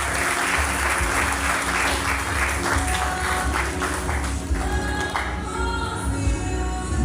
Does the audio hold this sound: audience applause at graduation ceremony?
yes